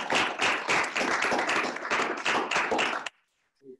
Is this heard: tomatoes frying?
no